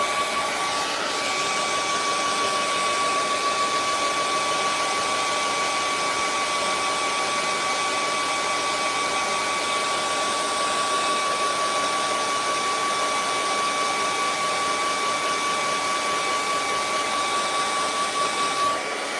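Hair dryer blowing to dry acrylic paint on a snowy mountain painting, a steady whirring whine with a constant airy rush that starts up and runs unbroken, no speech.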